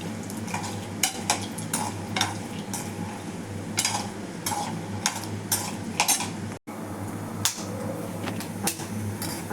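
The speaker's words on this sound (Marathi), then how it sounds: "त्याच्यात हे शेंगदाणे जरा परतून घ्यायचे." Peanuts being roasted in a ladleful of hot oil in a kadhai, with a metal spoon scraping and clinking against the pan in repeated stirring strokes over a continuous low sizzle, close up.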